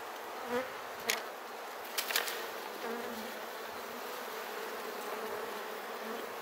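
Honeybees humming steadily around hives in the Kaz Mountains, a continuous close buzz with a few brief louder taps and knocks.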